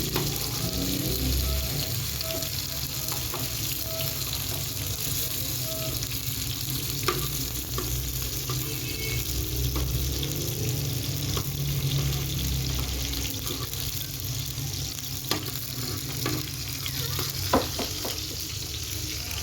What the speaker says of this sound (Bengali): ফ্রাই করতে বসলাম কিন্তু এখনো মাছটা ফ্রাই হয়নি